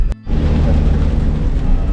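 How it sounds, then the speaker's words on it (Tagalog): Dense, steady rain falls in a broad continuous roar with heavy low rumble, starting abruptly after a brief quiet moment at the start. "So yun po yung ulan na mayaman."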